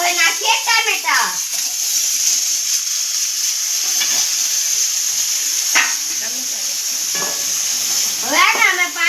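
Tomatoes go into a pan of frying onions for pasta sauce, with a steady loud sizzle and occasional spoon scrapes and stirring, under a child's and an adult's voices that speak intermittently.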